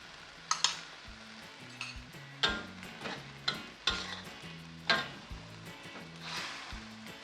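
Beaten eggs cook with vegetables in a pan while a utensil stirs and scrapes, giving soft sizzling marked by a series of sharp clinks and taps against the pan. The sound is close and fairly quiet, with no talking.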